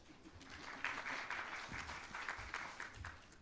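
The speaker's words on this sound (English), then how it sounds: "So a round of applause for Jonathan." Faint, distant audience applause rises in a conference hall at a session on Bangladesh's economy, a brief scattered patter of hands clapping at low volume.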